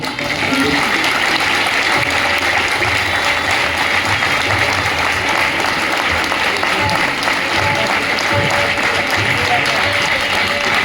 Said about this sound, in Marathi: सगळ्यांनी एकदा जोरदार टाळ्या वाजवून